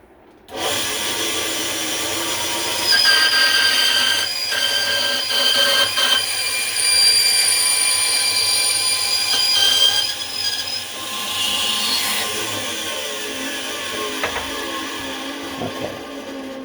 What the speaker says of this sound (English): So I'm going to lay this on the bandsaw, and I'm going to make that cut